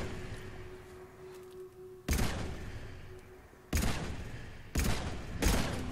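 Pistol shots in Mass Effect 3 crack out in four loud, separate bursts spaced a second or two apart, each a sharp blast with a short decaying tail over a quieter hum.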